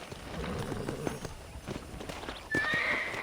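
In Red Dead Redemption, a horse's hooves clop in an irregular walking rhythm at close range, then a loud, drawn-out whinny rings out near the end.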